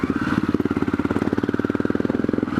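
Aprilia Pegaso motorcycle engine while riding on a cold day, a close, rhythmic throbbing pulse of evenly spaced firing beats with a mechanical clatter, steady across the short stretch, no talk.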